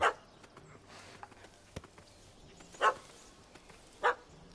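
Dog barking in The Witcher 3 video game, three sharp separate barks spaced a second or more apart, fairly distant over a quiet ambient background with no speech.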